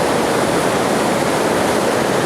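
A glacier-fed mountain stream, Kargah Nala in Gilgit-Baltistan, rushes steadily, a loud continuous roar of churning water close by with no voices.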